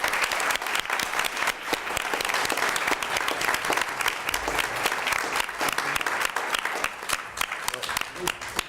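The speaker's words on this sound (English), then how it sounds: "how about a round of applause for our candidates?" An audience at a mayoral candidate forum claps steadily, a dense, even wash of applause sustained throughout from a sizeable crowd nearby.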